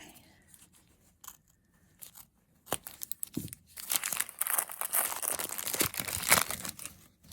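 Paper crinkles and rips open in a few quick bursts, growing louder and denser toward the end, close up with no talking.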